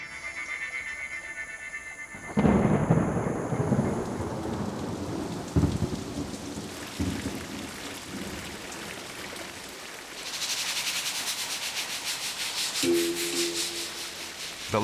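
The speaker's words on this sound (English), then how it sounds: "It's raining." Rain falls in the Coqueiro district of Belém in Brazil, a steady hiss of rain on surfaces with heavier rushing bursts and dripping runoff, fairly close and unbroken, with no voices.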